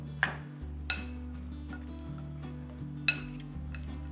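Cucumber salad is stirred with sauce in a bowl, making a few sharp clinks and light scraping sounds over a low, steady background hum.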